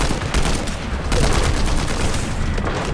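Rapid bursts of gunfire in the video game Fortnite, continuous and dense for the whole stretch, loud and close with overlapping shots and no clear gaps.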